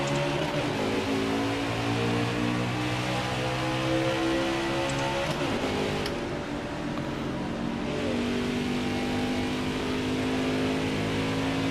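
NASCAR Cup car engine in NASCAR Heat 4, a loud continuous roar with shifting pitch as it revs and holds speed, with other cars droning around it and no talk.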